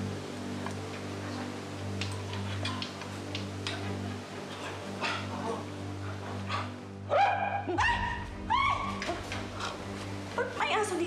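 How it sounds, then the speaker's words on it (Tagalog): Dog in a Filipino household scene with several clear barks and whimpers in the second half, close and fairly loud, mixed with people talking and a ticking clock. "Ba't may aso dito?"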